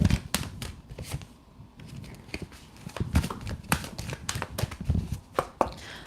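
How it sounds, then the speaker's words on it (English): Tarot reading cards being shuffled by hand, a run of crisp, rapid flicks and riffling bursts close to the mic, with no talking. "just getting it shuffled up for the next one"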